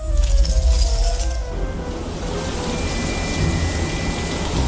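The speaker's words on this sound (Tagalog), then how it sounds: "Umuulan na nga!" Steady rain hisses down in a broad, even wash of patter, loud and close from start to finish, with a brief heavier rumbling burst at the opening that settles into continuous downpour.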